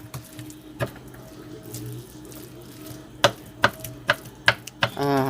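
Pork skin being poked with holes for crispy pork, a run of sharp, close jabbing taps, scattered at first and then a quick series of five, over faint background noise and a brief voice at the end.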